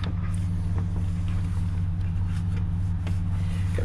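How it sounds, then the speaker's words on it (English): A 2009 Dodge Grand Caravan with about 206,000 km idles steadily close by, a low, even engine hum with a faint rumbling pulse that holds for a few seconds without any talk. "I'll go and let you listen to the engine."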